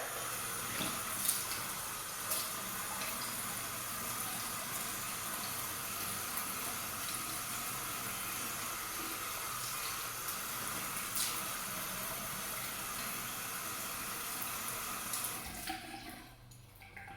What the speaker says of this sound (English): you're gonna just rinse off your cleanser